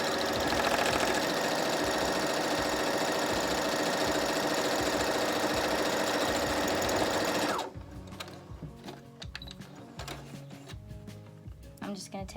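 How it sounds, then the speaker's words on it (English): A sewing machine runs a steady straight stitch along fabric edges for a scrunchie, a loud continuous whirring motor hum for about seven and a half seconds before stopping abruptly, leaving faint handling clicks and rustles. "I'm just gonna line up the edge with the foot and then just do a straight stitch all the way down."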